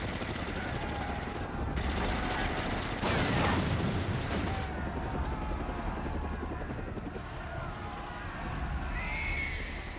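Battle gunfire in the video game Final Fantasy XIV, a dense continuous wash of shots and clatter under game music and effects, loud and sustained throughout, with speech over parts of it.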